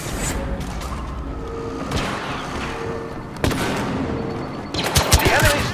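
Blaster shots from a scout pistol and other weapons crack in Star Wars Battlefront multiplayer, scattered sharp bursts over background battle noise, with a louder cluster of rapid fire near the end.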